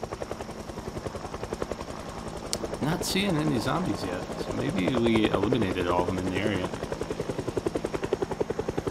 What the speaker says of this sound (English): when we know the helicopter is coming